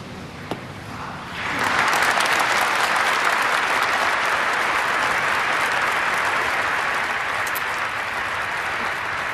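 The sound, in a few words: applause after a eulogy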